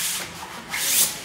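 A blade slices through overlapping wallpaper mural seams in a double cut, a short soft scraping rasp that swells and fades.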